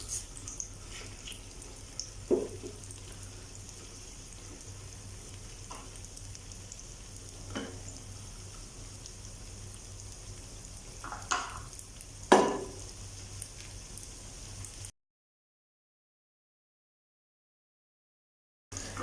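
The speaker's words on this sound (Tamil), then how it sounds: "ஆயில் சூடானதும் நம்ம எடுத்து வச்சிருந்த மிக்சரை சேர்த்துடலாம்." An egg and vegetable omelette mixture fries in hot oil in a pan, with a soft, steady sizzle, a few faint utensil clinks and taps, and a short stretch of silence near the end.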